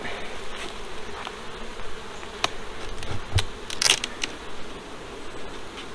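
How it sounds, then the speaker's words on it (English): Honey bees buzz faintly around an opened hive box with a candy board, a steady low hum broken by a few brief close sharp buzzes or clicks as insects fly past. "Should be quite a lot of bees in here."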